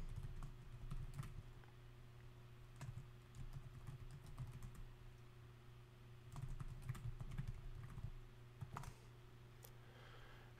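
Keys clatter on a computer keyboard as a username and password are typed, coming in short, quiet bursts of close clicks separated by brief pauses over a low steady hum.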